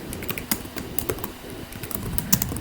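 Code being typed on a computer keyboard in a computer class lesson on loops, with irregular bursts of close key clicks and an occasional heavier keystroke, no voices.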